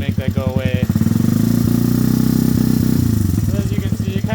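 A Honda ATC three-wheeler engine idles close up with a steady, throbbing putter, briefly rising as it is revved and then settling back, with no talk over it.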